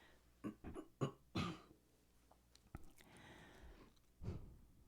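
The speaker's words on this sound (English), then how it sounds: "I have to clear my throat" Someone with a cold clears their throat several times in short, rough bursts close to the microphone, with a quieter cough-like rasp near the end.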